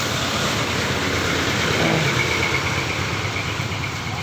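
Yamaha Mio M3 scooter engine running with a stalling fault, a steady, fairly loud idle hum heard close up without speech.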